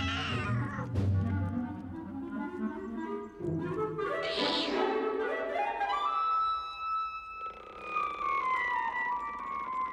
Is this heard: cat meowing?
yes